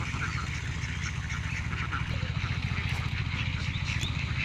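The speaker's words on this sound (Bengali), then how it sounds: "দেখতেছেন একটি হাঁসের খামার" Dense, continuous quacking from many ducks of the Khaki Campbell breed crowded together at a laying duck farm, a close, steady chorus with no talk over it.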